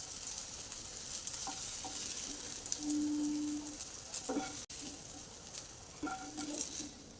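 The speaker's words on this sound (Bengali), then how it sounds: "আমগুলো এরকম লাল করে ভেজে নিতে হবে" Raw mango pieces fry in hot oil with a steady, close sizzling hiss, broken by a few soft clinks of stirring.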